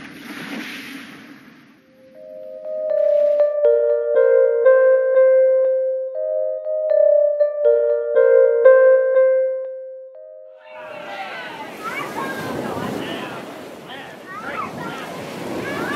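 Sea waves washing onto a shore, a broad hissing surge rising near the end after a stretch of chiming musical tones, fairly loud and close.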